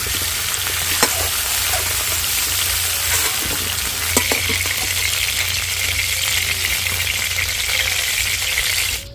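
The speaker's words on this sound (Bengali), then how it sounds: "ফোড়নগুলো খুব ভালো করে ভাজা হয়ে গেছে" Whole spices for tempering crackle and sizzle in hot oil, a dense continuous frying hiss broken by occasional light clinks of a spoon.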